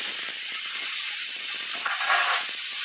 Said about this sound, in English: I'm going to add the fruit